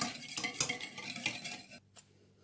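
A utensil clinks and scrapes against a bowl while eggs are stirred into a mixture, a quick run of soft metallic taps and swishes up close before it falls quiet.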